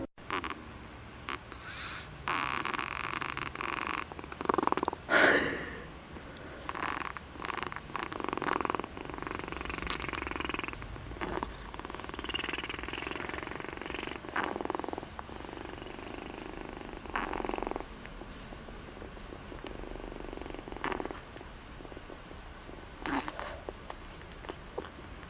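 Cat making odd purring, croaky chirping noises in a series of rough bursts with pauses between, close but quiet.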